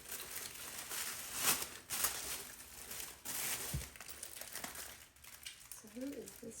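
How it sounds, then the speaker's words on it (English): Crisp crinkling and tearing of thin paper, irregular rustles coming in bursts, with quiet voice fragments underneath. "Rip the tissue paper because I don't usually keep tissue paper."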